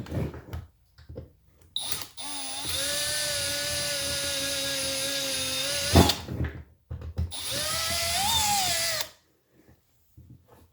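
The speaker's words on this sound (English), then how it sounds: "So we drilled the head of that rivet off." A power drill bores off the heads of rivets during an intake install, two sustained high whining runs of several seconds each, with the motor pitch sagging under load, separated by short clunks and handling noise.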